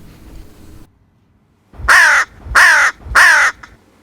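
Three loud, harsh hooded crow caws in a steady sequence, close by, after a brief stretch of quiet.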